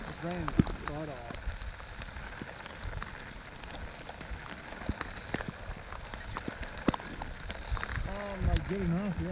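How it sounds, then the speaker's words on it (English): Heavy rain patters steadily on a surface with scattered louder drops on the Mississippi River at La Crosse, Wisconsin, while someone talks briefly at the start and end. "it's raining his butt off"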